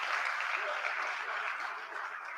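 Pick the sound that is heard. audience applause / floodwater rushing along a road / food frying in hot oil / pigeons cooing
audience applause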